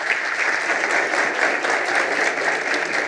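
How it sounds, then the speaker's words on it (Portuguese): An audience claps to welcome a speaker, the CEO and cofounder of Netshoes, onto a campus stage in São Paulo: dense, steady applause filling the room for about three seconds with no voices. "Uma salva de palmas"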